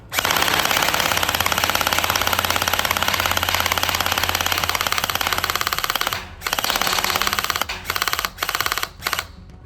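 An electric gel blaster pistol firing on full auto: a loud, close, rapid rattling burst runs for about six seconds, then several shorter bursts follow with brief gaps before it stops.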